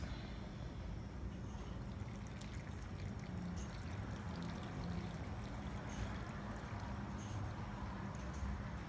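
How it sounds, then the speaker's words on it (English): Broth pours steadily into a pot of kimchi braised pork ribs, making a soft continuous splashing trickle that stays even and fairly quiet. "And I'm going to add the broth."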